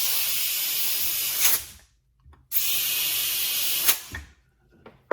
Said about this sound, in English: I'm going to run some compressed air in here